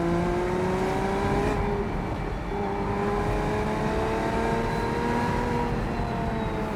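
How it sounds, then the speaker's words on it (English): A high-mileage Porsche Boxster 987, mid-engined with a dual-clutch gearbox, revs loudly while driving, its rising engine tones sweeping up through gear changes, close and continuous with no talk. "There's a beautiful sound from that engine."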